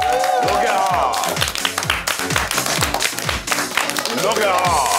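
Studio audience at a talk show clapping loudly and steadily, with cheering voices and music mixed in throughout.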